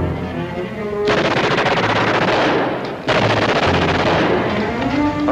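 Battlefield machine gun fire, loud sustained rapid bursts close by with a brief break before a second long volley.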